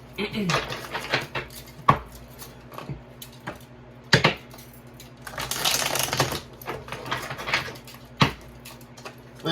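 Crisp riffling and tapping of a tarot card deck being shuffled, in bursts of quick clicks with pauses between, close by.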